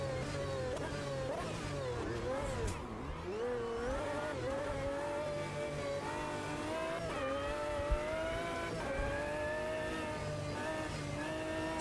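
A race car engine in the Automobilista 2 sim racing game drones at a steady, flat pitch, rising slowly as the car accelerates and occasionally dipping, heard fairly quietly and on its own throughout.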